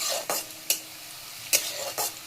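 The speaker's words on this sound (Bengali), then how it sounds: "তো পেঁয়াজগুলি ভাজা হয়ে যাচ্ছে, লাল হয়ে গেছে।" Onions sizzle as they fry in a pan for an egg curry, a steady crackling hiss broken by a few sharp scraping stirs, close and moderately loud with no talking.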